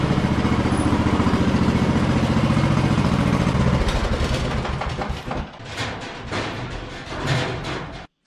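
A lawn tractor engine runs nearby at a steady idle-like chug, then the tone shifts and clatters a little as the tractor is driven in and the sound thins and fluctuates.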